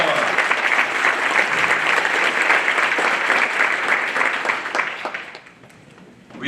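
A large audience at a Louisiana students-of-the-year awards ceremony claps in a full, sustained round of applause that holds steady, then thins and fades over the last second or two.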